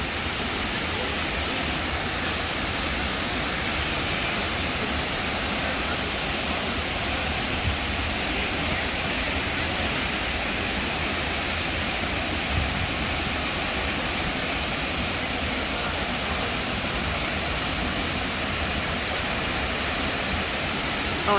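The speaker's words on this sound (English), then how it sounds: "this is Looking Glass Falls" Looking Glass Falls in Pisgah National Forest, a steady, loud broadband roar of falling water that holds constant and unbroken with no voices over it.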